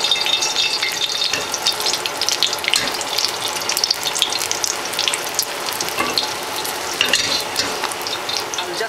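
Scrambled eggs with salt fry in a pan, giving a continuous bright crackling sizzle with busy popping throughout, steady and close with no talking.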